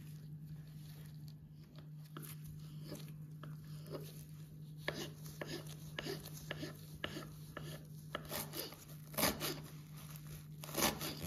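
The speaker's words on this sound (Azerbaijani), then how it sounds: "İndi isə bütün ərzaqlarımızı xırda-xırda doğruyuruq." Boiled vegetables for vinegret salad are finely diced on a board, giving quiet, irregular knife taps and scraping strokes over a low steady hum, with no one speaking.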